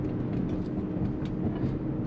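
A 2005 BMW 545i V8 with a homemade exhaust heard from inside the cabin while cruising slowly through a neighborhood, a steady low rumbling drone with no other sounds.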